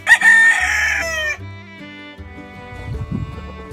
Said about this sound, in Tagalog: Ito yung mag-asawang decalb chicken.